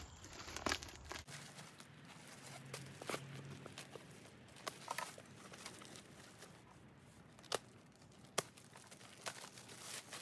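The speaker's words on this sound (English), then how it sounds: "wrapped in this plastic, so we're going to take our time getting all this stuff off" Plastic wrapping pulled off a rifle bag: quiet crinkling and tearing rustles with scattered sharp crackles and taps, close and intermittent throughout, with no voices.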